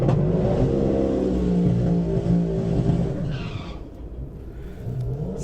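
Supercharged Dodge Challenger Hellcat on drag slicks revving hard at a quarter-mile drag race, a loud, sustained roar with tire squeal that eases off near the end.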